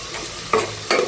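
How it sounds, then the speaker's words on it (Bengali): Garlic frying in mustard oil in a cooking pot makes a steady sizzle, with two quick stirring scrapes close by and nobody talking. "একটা ডেকচির মধ্যে সরিষার তেল দিয়ে অল্প করে রসুন দিয়ে প্রথমে রসুনগুলো লাল করতে হবে ডেকচির মধ্যে।"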